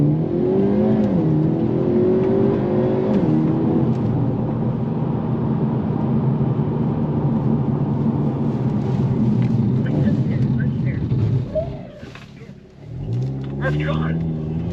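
Hyundai car accelerating on Sonoma Raceway toward cones for a hard-braking exercise, a loud sustained engine drone and road roar that drops away briefly near the end, with a voice talking over it.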